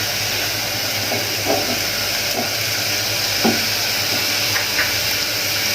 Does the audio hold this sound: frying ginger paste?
yes